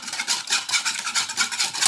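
Sugar and eggs whisked together in a bowl, a quick rhythmic swishing of about a dozen strokes up close, no talking.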